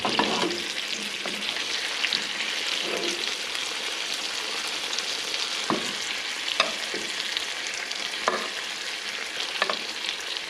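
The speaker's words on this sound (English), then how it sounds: "Let's do one more round of basting." Rainbow trout frying in a pan while basted with garlic butter, a loud steady sizzle with intermittent spoon taps and spattering, no voices.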